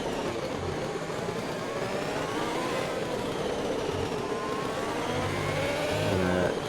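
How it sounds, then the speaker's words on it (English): A Formula 1 car engine in the racing game F1 2020, on the Abu Dhabi circuit, drones at a high, steady pitch with shifting harmonics, a continuous onboard whine that rises slightly near the end. "here in Felipe's car seems to be going between 3rd and 4th gear at the speed of sound"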